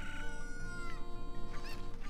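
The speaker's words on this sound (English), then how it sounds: "So the chickens freak out, and then chickens just try to attack you" Cuccos, the chickens of Zelda: Ocarina of Time, cluck and squawk in agitated game audio over a steady background music bed, with the calls rising and repeating throughout.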